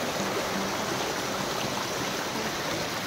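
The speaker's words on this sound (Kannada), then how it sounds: "ಒಂದು ನದಿಯ ಒಂದು ಸ್ಟ್ರೀಮ್." A river stream flowing near Chikkanamane falls, a hidden waterfall near Sirsi in Karnataka, gives a steady, broadband rushing wash of water, close and constant throughout with no talking.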